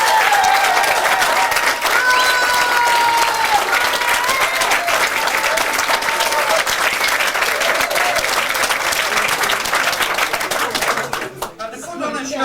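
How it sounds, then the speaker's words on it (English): A show audience gives a big round of applause, loud dense clapping from a crowd that stays strong and continuous before thinning out near the end, with voices and faint cheers mixed in. "But a big round of applause for John"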